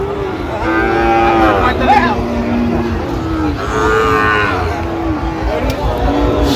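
Sahiwal cattle calves mooing at a busy cattle market, loud drawn-out lowing calls one after another close by, over a constant crowd din with voices.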